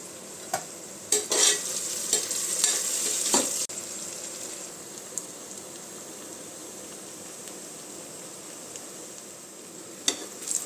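Onions with green chillies frying in oil for pressure-cooker chicken biryani, a steady close sizzle with brisk stirring scrapes early on that settle into even frying, then a final stir.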